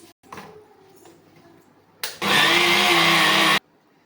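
A loud mixer grinder churning butter with water whirs steadily for about a second and a half, starting abruptly after some quiet handling noises and cutting off just as suddenly.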